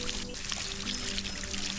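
Crops being watered in the video game Solarpunk, a continuous close pouring stream of water, steady and full throughout with a faint tonal hum beneath.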